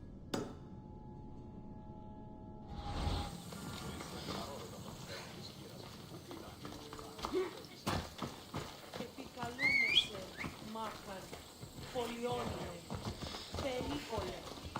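Horse galloping in the video game Assassin's Creed Odyssey, a steady clip-clop of hooves that starts after a loud rush and runs under talking and game music throughout.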